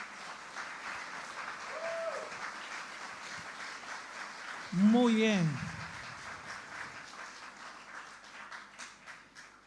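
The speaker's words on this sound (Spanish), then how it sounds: "Si puedes, dale un fuerte aplauso al Señor." A church congregation applauding, a moderate sustained patter of clapping under a preacher's voice, with a louder vocal swell in the middle.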